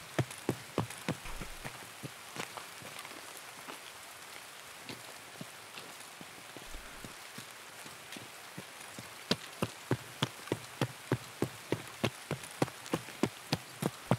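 Heavy rain pours down in Escape From Tarkov, a dense constant hiss of drops with sharp, regular ticking spatters standing out, more frequent toward the end, with no talking.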